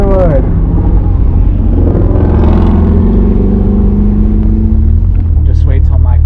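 An abandoned 1966 Ford Mustang, back on the road after sitting over twenty years with something loose up front, rumbles loudly and steadily as it drives, with a rising rev partway through.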